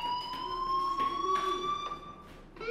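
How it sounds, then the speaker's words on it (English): Fire alarm in the video game Life Is Strange, a steady electronic tone sounding continuously with pulsing beeps layered over it, moderately loud indoors with no talking. "do you hear that fire alarm? That means you should be outside."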